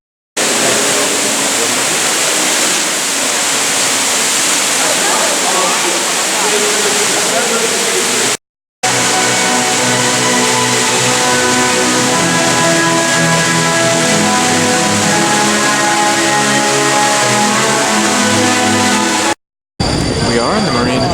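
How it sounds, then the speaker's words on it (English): Artificial waterfall in a grotto, a loud, steady broadband rush of falling water filling the space, briefly cutting out twice, with no talking. "Now I turn on an artificial waterfall."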